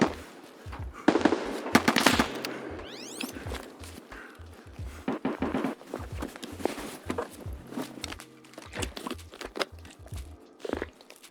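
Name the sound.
MP-153 shotgun shots in video game Escape from Tarkov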